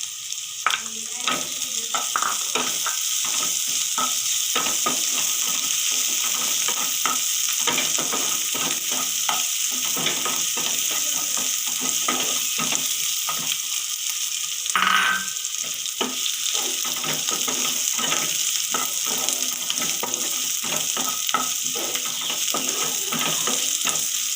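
Ginger and garlic fry in oil in a pan for an okra masala curry, a steady close sizzle broken by frequent scraping stirs, with a brief louder clatter partway through.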